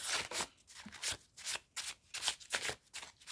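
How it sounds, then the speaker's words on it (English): A deck of playing cards is shuffled up close, with repeated quick riffling bursts in a steady rhythm that come and go several times over a few seconds. "then I'll shuffle a few more."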